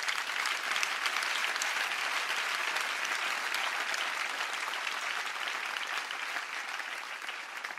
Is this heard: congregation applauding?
yes